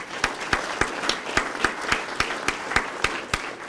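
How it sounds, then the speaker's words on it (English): Audience applause at a police promotional and awards ceremony, a steady wash of many hands clapping together, punctuated by regular sharp rhythmic claps roughly every third of a second, moderately loud and sustained with no talk. "give him a round of applause for a job well done"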